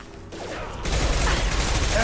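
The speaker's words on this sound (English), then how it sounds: "Firing concussive shots!" Concussive shot ability firing in Mass Effect 2, a sudden loud blast after a quieter mechanical lead-in, followed by a sustained rumbling wash of sound.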